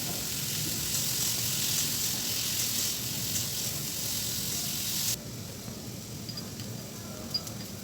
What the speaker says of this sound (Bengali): আলুগুলো হালকা করে ভেজে নেব।